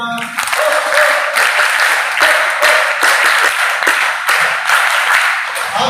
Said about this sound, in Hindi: अपने उन सभी बहनों के लिए तालियां